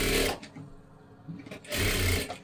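A sewing machine runs in two fast bursts while stitching strips for a size 38 princess-cut blouse, pausing briefly in between; close, steady whirring with no talk.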